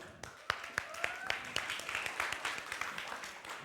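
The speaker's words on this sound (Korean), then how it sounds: "박수." A winter camp audience claps for a volunteer called forward, opening with a few sharp individual claps that swell into steady, fairly close applause from a crowd.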